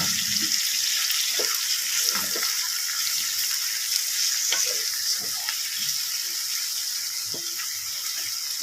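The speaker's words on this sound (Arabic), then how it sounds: "هنحطه بقى دلوقتي نشوحه برده مع الخضار ده" Washed and drained yellow lentils sautéing with vegetables in a pot for lentil soup with vermicelli, a steady close sizzle with scattered light clicks and stirring scrapes.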